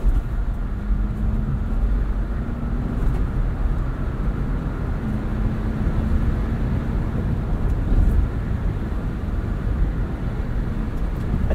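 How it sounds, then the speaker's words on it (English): Steady, loud rumble of tire, road and wind noise fills the cabin of a 2021 Jeep Wrangler Rubicon 4xe plug-in hybrid cruising at speed, a constant broadband roar with no voices. "It's pretty loud at speed, quite a bit of tire noise, road noise, wind noise."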